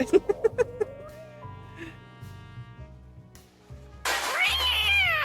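A harmonized meow sound effect triggered by a stream redemption during a detective game, with several quick stacked meows that rise and fall, then a louder sustained yowl over game music.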